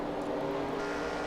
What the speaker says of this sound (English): Oh, and the Max Speed TV car's coming on pit road now, Ed.